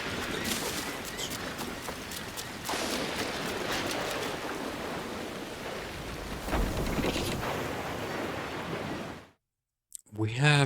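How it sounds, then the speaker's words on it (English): Loud, roaring storm noise like heavy rain and surging waves at sea in Assassin's Creed Black Flag, continuous and wide, cutting to brief silence near the end before a short electronic sound. "We have a storm around us."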